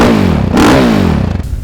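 A supermoto motorcycle with an Akrapovic exhaust revs loudly and close by, its engine climbing and falling through a couple of sharp barking throttle blips.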